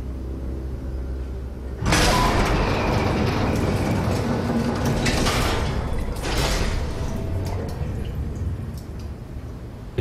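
A heavy door in the game SOMA opens with a sudden loud mechanical rush that stays dense and sustained for several seconds, then swells again briefly before settling, with no voices.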